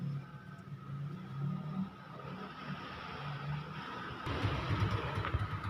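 A Yamaha Mio Sporty scooter engine idles after an electrical wiring repair, with a low, uneven putter heard faintly at moderate distance. It grows slightly louder and rougher near the end.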